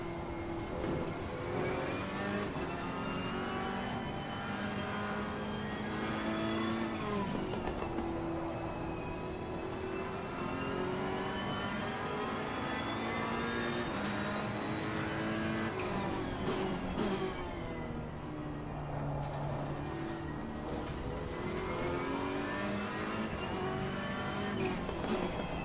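Ferrari 488 GT3 racing engine lapping the Hungaroring in a racing video game, revving up through gears with rising whines and dropping on downshifts, tires squealing in corners, loud and continuous.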